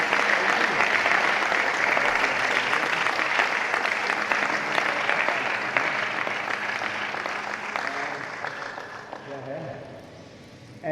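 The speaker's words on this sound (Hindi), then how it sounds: "और देखो इधर तो एक बार जोरदार तालियां है देवात्मजा की।" Loud, sustained applause from a large audience at a yoga session, filling the space continuously and tapering slightly toward the end.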